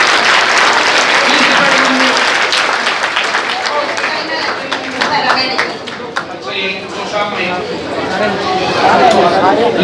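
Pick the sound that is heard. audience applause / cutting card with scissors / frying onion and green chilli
audience applause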